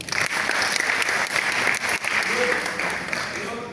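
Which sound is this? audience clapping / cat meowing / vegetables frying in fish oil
audience clapping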